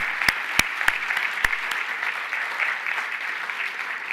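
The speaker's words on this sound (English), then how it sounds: "a little round of applause for these folks that are doing really great work" Applause for school coordinators at a county education event, a thin scattered clapping from a modest crowd with a few sharp claps up front, steady for about four seconds and fading slightly at the end.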